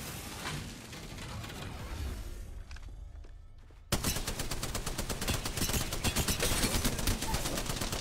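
Rapid pistol fire from an Apex Legends match, a dense rattling burst of shots that starts suddenly and keeps going loud and close, with quieter game noise before it.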